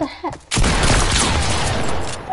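Gunfire from a quick no-scope sniper shot in a video game, a loud burst that cuts in sharply and sustains as a dense crackling blast, with brief talk just before it.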